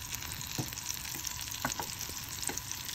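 Tortang talong, an eggplant omelette, sizzles steadily in a pan with only a little oil, with a few brief taps and crackles scattered over the constant frying hiss, close up and with no one talking.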